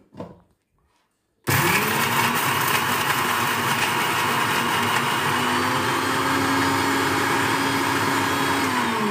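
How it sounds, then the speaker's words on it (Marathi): A mixer grinder starts abruptly and runs with a loud, steady whirring roar as it grinds roasted onion, coriander and chillies, holding an even drone to the end after a brief quiet stretch. "आणि हे मिक्सरमध्ये करून घेऊ."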